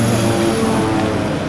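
Small plane flying to Kabalebo Nature Resort in Suriname: a loud, steady droning engine and propeller hum, close and constant throughout.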